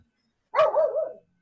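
A puppy barks once, a single drawn-out yelping bark lasting about half a second, close and clear against an otherwise silent room.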